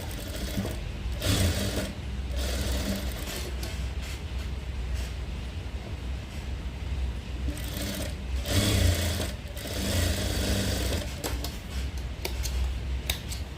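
A sewing machine runs in long close bursts as it stitches the neck side of a work blouse, a fast rattling hum broken by short pauses and no talk.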